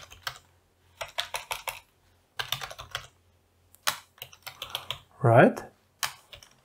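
Close keyboard typing on a computer while coding, bursts of quick key clicks separated by short pauses, with a brief spoken word near the end.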